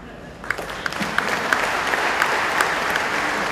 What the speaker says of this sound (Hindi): लेकिन मैं देख रहा हूं मुश्किल से तालियां बज रही हैं